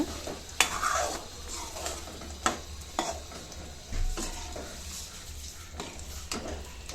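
Capsicum and green peas gravy stirred in a pan, sharp spoon scrapes and knocks every second or so over a steady bubbling sizzle and low hum, close and unaccompanied by talk.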